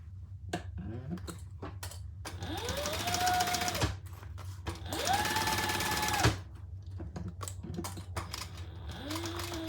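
A sewing machine stitches a black leather pumpkin in short bursts, close mechanical chattering runs with motor whine rising and falling, separated by quiet pauses and handling clicks.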